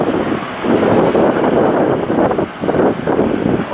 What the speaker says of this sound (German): Der Wind ist schon echt kräftig wieder